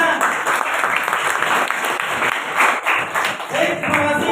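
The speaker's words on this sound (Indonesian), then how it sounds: "Oke, tepuk tangan semuanya." A classroom of students applauding together at the end of a teaching session, dense and loud clapping that swells and holds for several seconds with some voices mixed in.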